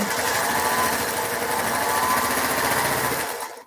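A sewing machine stitching quilt scraps runs in one fast, continuous whirring burst with rapid needle chatter, loud and close, then slows and stops at the end.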